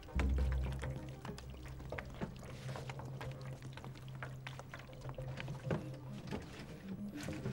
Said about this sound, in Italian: i boccioni dell'acqua.